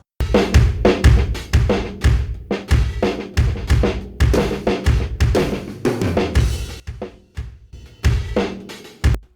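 Punchy drum kit hits from room mics with aggressive tape distortion, a saturated, crunchy room sound, steady beat with dense low-end thumps and splashy cymbals, loud and close.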